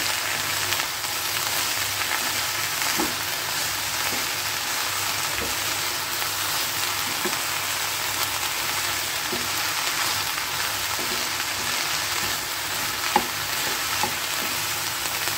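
Okra and spices fry in a pan for a South Indian palya, a steady close hiss of sizzling oil with occasional soft spatula scrapes and taps spaced every second or two, with no one speaking.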